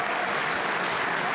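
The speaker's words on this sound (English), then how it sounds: "Listen to the crowd." Crowd at the 2024 US Open Pool Championship semi-final applauding steadily after a successful shot, a dense, even wash of clapping that fills the whole moment.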